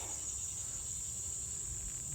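Honey bees buzzing around an opened Layens hive, with many bees gathered in the lid, giving a faint continuous drone with a steady high hum over low rumble, no voices present.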